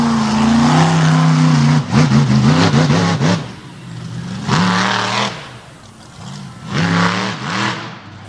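Monster truck engines roar and rev hard during a freestyle run in Toxic 2.0 at an All Star Championship event, with loud rising and falling bursts of throttle across the whole stretch and no talk.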